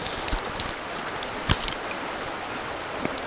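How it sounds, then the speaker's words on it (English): A small river flows near a waterfall, a steady broadband rush with faint splashes and brief droplet-like ticks, moderately close and continuous with no talking. "Little river."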